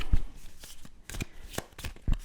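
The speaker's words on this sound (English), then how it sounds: "that was a quick shuffle" A deck of cards is shuffled for a solo board game in a few quick riffling bursts with short pauses between them, close up and fairly quiet.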